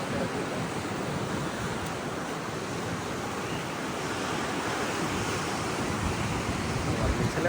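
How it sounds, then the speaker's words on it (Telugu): Sea waves wash onto the shore at Kakinada on a cold, windy night, making a steady, dense roar of surf mixed with wind noise that stays constant and loud throughout. "ఇక్కడ చూడండి అలలు ఎంత పైకి వస్తాయో"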